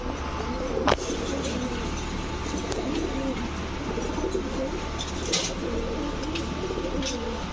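Highflyer pigeons, a green-necked pair with heavily feathered feet, coo steadily and close by in soft overlapping rolling phrases, with a few faint chirps and light clicks and no talk.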